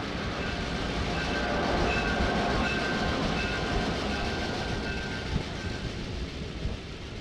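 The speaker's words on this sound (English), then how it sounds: "This is a mono passenger train leaving Louisville to head north." A Monon passenger train leaving the Louisville station heading north, a continuous broad rumble and rolling rattle of the cars with faint high squeals, steady and fairly loud throughout.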